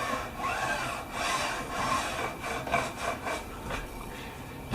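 A file runs up and down the side of guitar frets to smooth the end bevels, giving close, repeated rasping strokes in a steady back-and-forth rhythm with no talk.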